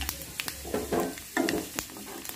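Fennel seeds, chopped coriander, cumin and turmeric fry in hot oil close up. A soft crackling sizzle runs under scattered clicks and stirring scrapes.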